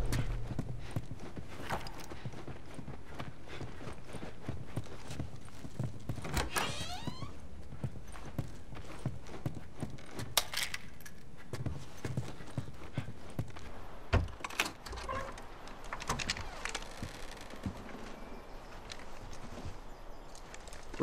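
Video game horse hooves clip-clop steadily and close by in The Last of Us Remastered, a brisk rhythmic trotting with scattered clunks and rattles mixed in.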